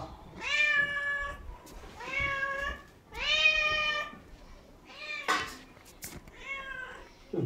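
A cat meows repeatedly near the microphone during an online lecture, giving five or six loud, drawn-out meows in a steady rhythm with short pauses between them.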